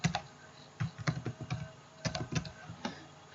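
Rapid clattering keystrokes on a computer keyboard while coding in Laravel, with irregular bursts of close, crisp taps and short pauses, ending in a quick key combination press.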